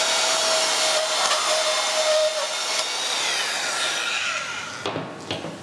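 A power saw runs at full speed through wood, a loud, steady whining roar that holds for several seconds, then drops into a few shorter bursts as the cut finishes.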